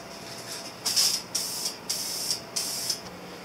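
Spray paint going onto a 1983 Honda CB1000 motorcycle gas tank in four or five short close hissing bursts, each about half a second, separated by brief pauses.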